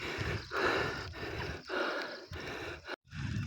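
A cyclist climbing Mount Samat breathes heavily, rhythmic loud gasps and pants roughly every half second, close to the microphone over faint wind and road noise.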